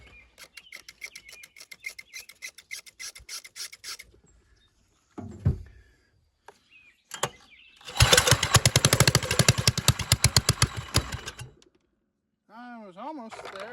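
An old John Deere lawn tractor, sitting unused for 25 years, cranks in repeated bursts after fuel is poured into the intake. The loudest stretch is a rapid churning run, with pauses and quiet clicks between attempts.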